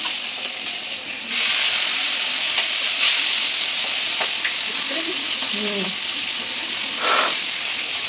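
Chicken leg pieces fry in hot oil for a home-style chicken biryani, making a continuous bright sizzle and hiss at steady loudness, with faint intermittent voices beneath.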